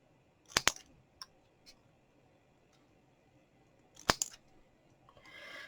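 Scissors trimming a piece of stamped card for a handmade ladybug chocolate box, giving a few quiet close snips: a quick double cut, a faint one, a single sharp snip later, then soft paper rustling.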